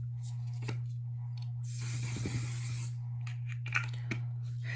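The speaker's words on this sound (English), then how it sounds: "Now I'm going to spray my One Size One Till Dawn setting spray" One Size One 'Til Dawn setting spray is misted onto a face in one sustained hissing burst of about a second and a half, framed by small clicks and handling sounds before and after.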